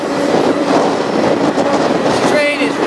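A freight train rushes loudly through an Indiana town, heard from close by as a continuous rumbling roar with rattling wagons and a brief metallic squeal.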